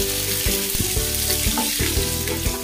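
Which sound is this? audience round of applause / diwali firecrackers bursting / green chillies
green chillies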